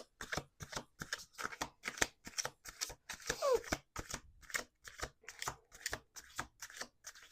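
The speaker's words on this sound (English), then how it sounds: "Two more shuffles." Playing cards being shuffled by hand, a rapid series of crisp riffling and tapping bursts in an uneven rhythm, close and fairly quiet.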